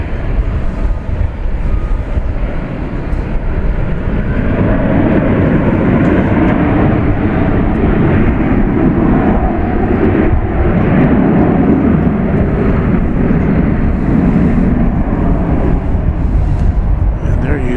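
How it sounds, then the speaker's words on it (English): An Airbus A321 airliner takes off at night from Dallas Fort Worth International Airport, its engines a loud, sustained roar that swells and holds, with a person talking over it. "It's an Airbus A321. It is headed out to Salt Lake City."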